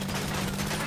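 Rapid automatic gunfire in GTA V, a dense continuous burst of shots with a steady low hum under it, loud and close throughout.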